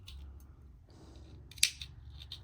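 Scissors make a single sharp snip trimming the two ends of a macrame cord on a handmade earring, a quiet close click over faint room noise.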